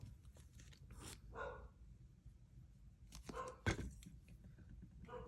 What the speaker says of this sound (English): And then I will get my dogs to stop barking.